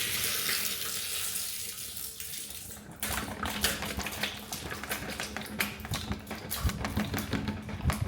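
Liquid from a composting toilet's urine container poured down a drain, a steady splashing gush that starts about three seconds in after a quieter lead-in and continues with uneven spatters to the end.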